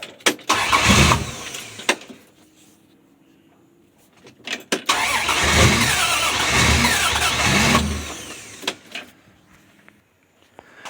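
A cold 1965 Dodge Dart's 225 cubic-inch slant six cranks and attempts to start in bursts, then catches and runs loudly for a few seconds before cutting out, followed by further brief cranking.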